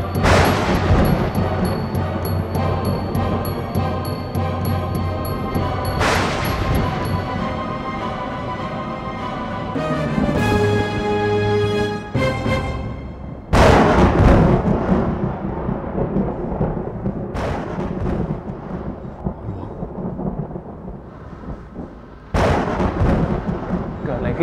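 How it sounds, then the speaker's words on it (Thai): Loud thunder rumbling and booming in repeated cracks and long rolls, with sharp onsets near the middle and end, close and heavy throughout. "ฟ้าร้องอย่างโลกจะแต ก"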